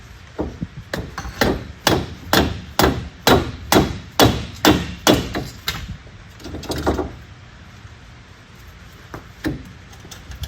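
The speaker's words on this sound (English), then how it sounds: "Let me grab another dead blow. See if we can get it to come off." A dead blow hammer strikes a car wheel about a dozen times in a quick, even rhythm of loud, close, dull thuds, followed by a few scattered lighter knocks and handling noises.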